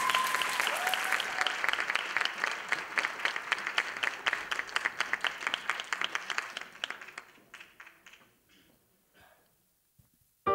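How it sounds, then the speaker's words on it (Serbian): Audience applause for a contestant at a Francophone song competition in Niš: dense clapping from a crowd that thins into scattered claps and fades out near the end. "Veliki aplauz za našu poslednju takmičarku Sofiju!"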